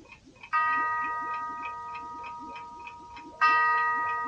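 A Peters Pralinen musical Advent calendar plays a soft, steady ticking clock sound, with two bright chime-like tones entering near the start and again after about three seconds.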